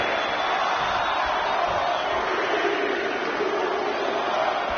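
Crowd noise from a WWE 2K20 wrestling video game, a steady dense roar of many voices chanting along in unison as a count builds, broad and continuous throughout with no commentary over it.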